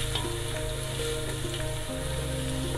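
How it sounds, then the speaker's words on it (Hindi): Ginger garlic paste browning in a hot pan of oil for a chicken korma, a steady close sizzle and crackle throughout. "अदरक लहसुन ब्राउन कर लें,"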